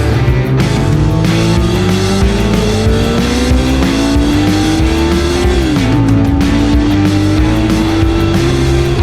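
A Honda CB400 Super Four four-cylinder motorcycle accelerating hard in second gear, its loud engine note rising steadily in pitch, dipping briefly, then climbing again as the revs build.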